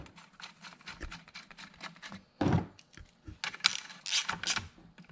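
A ratchet wrench clicks steadily while tightening a bolt during an HD2 shift kit install on a 4L60E transmission in an LS-swapped RX8, close and fairly loud, with quick ratcheting bursts and brief pauses between strokes.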